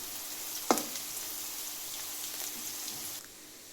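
Curry leaves frying in hot oil in a pan, a steady soft sizzle with one sharp spit near the start, close and fairly quiet, stopping abruptly near the end.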